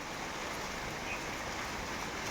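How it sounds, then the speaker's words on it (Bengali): Light drizzle falls on a rooftop in the afternoon, making a steady, even hiss of fine rain throughout with no voices and no distinct louder drops. "টিপটাপ করে বৃষ্টি হচ্ছে"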